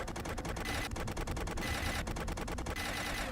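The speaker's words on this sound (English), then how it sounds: "Also added some new sound effects to the minigun." Minigun firing in the video game Team Fortress 2, a dense, continuous mechanical rattle of rapid shots with short bursts and brief pauses, loud and close for about three seconds with no talk.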